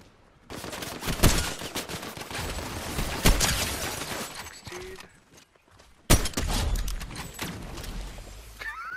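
Gunfire in a Fortnite Zero Builds match: rapid bursts of shots crackle in clusters, with sharp loud volleys around the start, middle and near the end, over continuous game noise.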